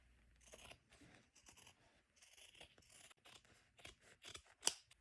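Scissors trim excess fabric at the rounded corners of a quilted, padded laptop sleeve, making a quiet, close series of short snips and crisp cuts, ending with one sharper snip.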